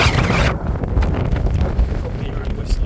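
Heavy wind buffets the microphone outdoors in Norfolk, England, with a constant low roar and rumble, loud and unbroken throughout.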